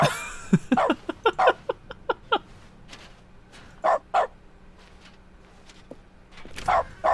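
A dog barks in dog mode in The Stanley Parable: Ultra Deluxe, a run of sharp close yips and bow-wows in quick succession, then a pause and a few more barks later.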